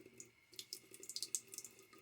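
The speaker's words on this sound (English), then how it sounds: "it looks kind of like I need to add a little bit more water" Water tap running briefly to wet a shaving brush during a wet shave, a quiet patter of water with small splashing bursts, alone and faint.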